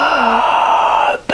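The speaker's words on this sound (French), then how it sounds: "Expirez." A person breathes out deeply and slowly during a guided relaxation, a long soft voiced exhale close by that trails off, followed by a brief breathy catch.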